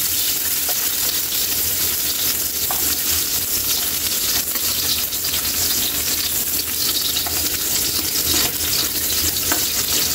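Onions sizzle steadily and loudly in a pan as they are sautéed and mixed, giving a dense, continuous crackle with faint stirring scrapes throughout.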